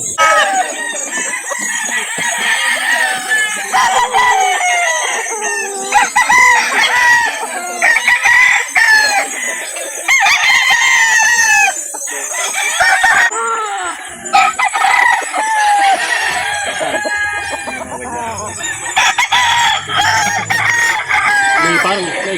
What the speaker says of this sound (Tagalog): Ito po yung kanilang manok.